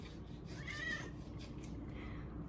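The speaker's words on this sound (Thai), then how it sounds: "มีมะเหมียวเหมียวอยู่ตรงเนี่ย" A cat gives a short meow-like cry close by in a kitchen where chicken is being chopped, set over a steady low background hum with no one talking.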